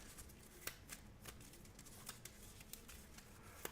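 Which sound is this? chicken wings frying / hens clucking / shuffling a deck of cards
shuffling a deck of cards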